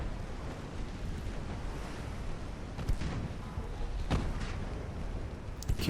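Distant naval gunfire in the warship game Ultimate Admiral: Dreadnoughts, a steady low sea-like rumble broken by a few sharp cannon reports near the middle and end, no talk.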